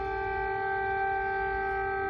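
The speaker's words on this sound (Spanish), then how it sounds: "Es el sonido de este 24 de febrero, las sirenas antiaéreas en la capital." Air raid sirens sounding over Kyiv, a steady sustained wail with a strong tonal pitch and harmonics, continuous and fairly distant, with no voices over it.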